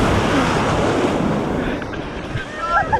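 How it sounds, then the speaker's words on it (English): Surf washing in on a New Zealand beach during clam digging, a loud continuous roar of breaking waves buffeted by wind on the microphone. "these waves keep throwing us off."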